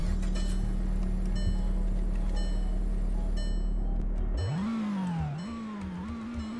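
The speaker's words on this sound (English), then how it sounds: "it's got a pretty basic sounding engine" A 1.4-litre Volkswagen car engine starts up: a steady low drone gives way to a rising whine as it fires and revs, then settles into a fluctuating idle close by.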